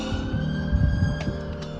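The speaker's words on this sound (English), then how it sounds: "Police sirens again, what is it with this area, man?" Police sirens wail from outside, distant and muffled, heard over a low steady rumble with a few soft clunks nearby.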